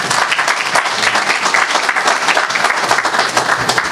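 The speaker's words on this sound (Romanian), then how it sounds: "Vă rog să-l aplaudați acolo." A seated council audience in Slănic Moldova bursts into sustained, dense applause for the mayor at his investiture session, clapping loud and close, rippling continuously for the whole stretch.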